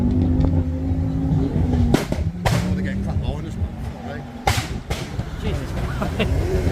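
Modified cars revving hard at a Max Power Reunion car show, with loud engine roars and sharp bangs over crowd chatter and nearby voices throughout.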